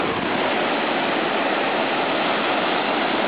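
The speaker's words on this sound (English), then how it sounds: "The wind is blowing." Strong wind roars steadily across a beach at Fort Lauderdale, a loud, dense, unbroken rush of noise buffeting close by, with no voices heard.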